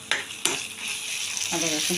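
Frying onions sizzle in a pan as ginger and garlic go in and get stirred, with a couple of sharp scraping clacks from the utensil over a continuous close hiss and no talking.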